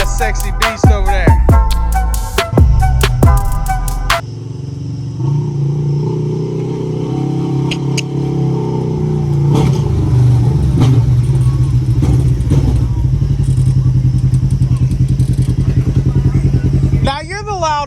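A CFMOTO ZForce side-by-side with a loud exhaust idles and revs nearby, a deep, rumbling engine drone with occasional throttle blips, under clattering and people talking.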